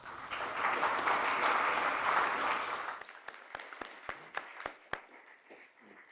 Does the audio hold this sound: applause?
yes